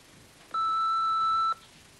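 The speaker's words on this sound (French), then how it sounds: "Parlez bien après le bip sonore." A single electronic answering machine beep, a steady two-tone electronic tone lasting about one second, clear and isolated against a quiet background.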